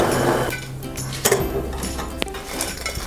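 Crispy fried okra being dished out with a utensil from a pan, clinking metal scrapes and light crunchy rustles close up, with a couple of sharper knocks against the dish.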